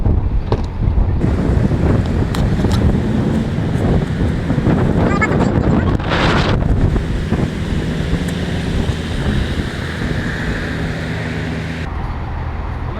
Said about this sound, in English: Put this down because it's kind of windy.